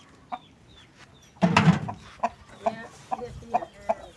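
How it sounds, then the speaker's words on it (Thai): Chickens on a cattle farm cluck nearby in a string of short, evenly spaced notes, with one louder squawk early on. "นี่ไก่ก็มาหาเนาะไก่เห็นเราเดินมาคิดว่าเราอาหารมาให้"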